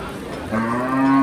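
A single loud, close cow moo from a dairy cow at a livestock market, a deep drawn-out bellow that swells and holds until it cuts off.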